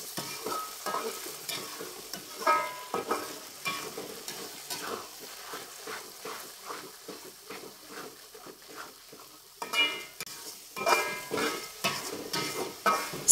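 A spoon scrapes and stirs a spice paste loosened with tamarind water as it fries in a pan, making a busy, close sizzle with repeated scraping strokes and no speech.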